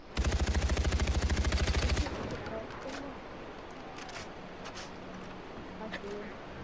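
Rapid automatic gunfire in the video game Far Cry 4, a loud sustained burst of about two seconds that cuts off abruptly, followed by quieter game ambience with scattered distant thuds.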